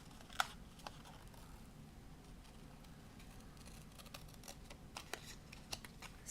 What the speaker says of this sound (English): I am going to cut this out.